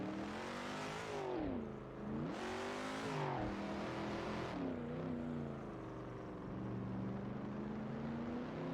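A Lamborghini in a racing video game, its engine droning loudly with revs that climb and dip as it shifts through gears, steady and close with no voices.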